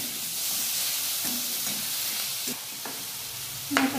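A vermicelli mixture with red chilli and coriander is stir-fried in a hot pan, making a steady sizzle with a few scraping stirs and a sharper clatter near the end. No one speaks.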